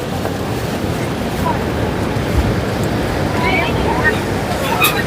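Sea waves surging along the Dwarka coast during rough, swelling seas, a steady broad wash of surf with wind buffeting the microphone throughout, moderately loud and continuous without a break.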